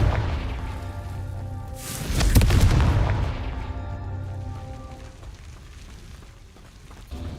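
The Confringo blasting spell exploding in Hogwarts Legacy, a single loud close boom that swells and slowly fades under steady game music, with no talking.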